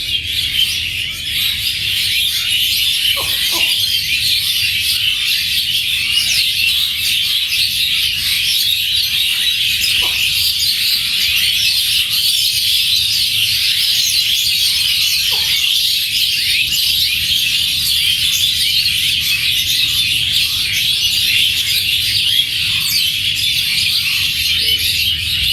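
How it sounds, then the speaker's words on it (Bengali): Many birds chirp and twitter from dense, leafy trees all around, a loud, continuous high-pitched chorus that never lets up, with a few faint low knocks underneath. "প্রত্যেকটা গাছই ভর্তি পাখিতে।"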